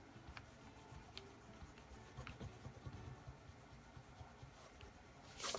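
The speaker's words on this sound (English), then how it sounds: "So if you take the eraser, let's just see how well these erase." An eraser rubs out erasable pen ink on paper in a small bullet journal, making faint, quiet scratchy strokes in short repeated bursts, with a slightly louder rub near the end.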